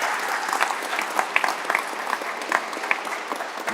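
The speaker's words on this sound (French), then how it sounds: "je vous demande de les applaudir tous les deux" Audience applause at a museum aeronautics inauguration ceremony, a steady patter of many hands clapping at moderate volume throughout, with no voices over it.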